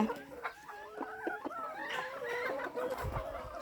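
Laying hens on a small Thai farm cluck in a steady stream of short, overlapping calls, fairly close and moderately loud, with no talk over them.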